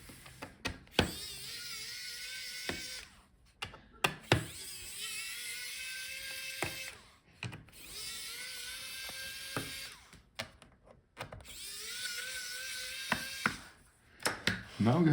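Electric screwdriver backing out the bottom screws of an HP EliteBook 840 G10 laptop, a close whirring motor in four bursts of a few seconds each, separated by short pauses and clicks.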